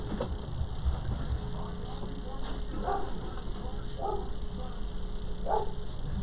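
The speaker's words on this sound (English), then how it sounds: "you're probably hearing my dog out there" A dog barks outside, distant and muffled, three or four separate barks at a steady pace under a constant hum, heard indoors where a floral hymn wreath is being made.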